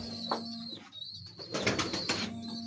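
Pure Kasuri pigeons at a rooftop loft in Faisalabad give soft, low cooing calls, with a few brighter bird notes and rustles mixed in, close by and moderately quiet.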